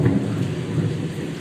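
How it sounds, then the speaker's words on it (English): Thunder rumbles low and continuous through heavy monsoon rain in a residential neighbourhood, a steady, dense roar with no voices. "Oh, that was thunder."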